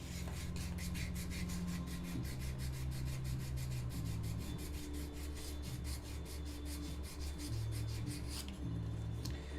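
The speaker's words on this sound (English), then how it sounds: "Got to sand it down first" Sanding a coin by hand for ring making, a steady rasping rub in repeated quick strokes that runs continuously at close range under a low background hum.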